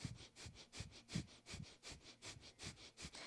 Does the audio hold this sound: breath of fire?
yes